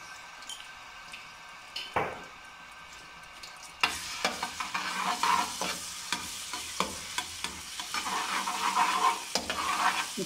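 Garlic paste frying in a pan for homemade desi-style noodles, with steady sizzling and repeated scraping stir strokes growing louder after a quiet opening; no voices.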